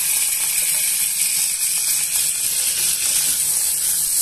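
Chopped onions and green chilies frying in hot oil give a steady, loud hiss and crackle that holds without a break from start to finish.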